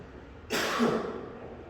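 A single quiet, breathy cough, close but soft, trailing off into stillness.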